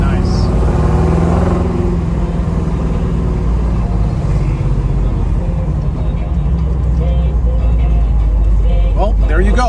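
A 1969 Chevrolet Nova 427 with fuel injection on Radial T/A tires drives and corners. The loud V8 drones steadily from inside the cabin, its pitch shifting as the throttle changes.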